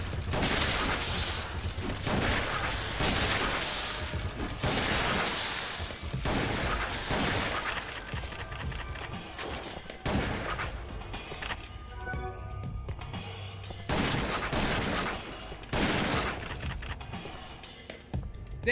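Repeated gunfire in the Resident Evil Umbrella Chronicles shooting game, loud broadband bursts recurring through the whole stretch with brief lulls between volleys, close and dense, with no talk over it.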